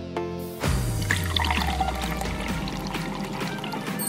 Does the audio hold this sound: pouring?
yes